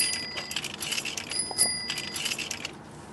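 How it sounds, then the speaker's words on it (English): A bicycle bell used as a phone ringtone in the movie Birdemic rings in quick repeated bright chimes, several bursts over a few seconds, clear and fairly close with no talking. "Her ringtone is a bicycle bell"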